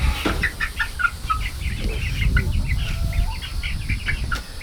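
Meat chickens shut inside a grow-out coop cluck and chirp steadily in a dense, close chorus, with many overlapping birds over a low rumbling background.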